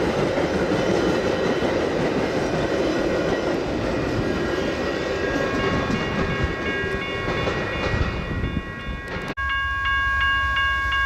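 A westbound Metra commuter train led by an F40PH diesel locomotive rumbles past loudly and steadily, wheels clattering on the rails, then the noise drops off abruptly as a sustained tonal whine carries on.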